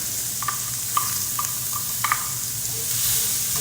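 Onion frying in hot oil with garam masala and curry spices, a steady close sizzle punctuated by several sharp clicks and scrapes of a spoon stirring against the pan, with no voices.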